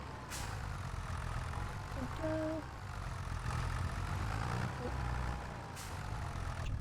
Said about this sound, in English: Let's drag this lovely tractor back.